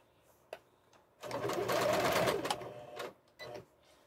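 A sewing machine stitches a one-inch double hem on a fabric basket liner, one steady whirring run of about a second, then two short bursts of stitching, close and moderately loud.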